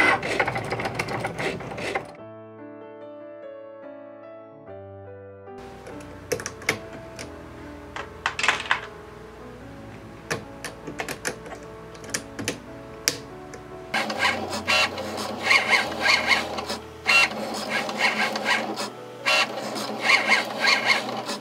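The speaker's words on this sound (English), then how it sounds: "The Cricut will cut everything out." A Cricut Mini cutting machine cuts a miniature wall-art piece out of thin wood, giving a soft mechanical whir with stepping motor tones, buzzy bursts and faster clattering runs near the end.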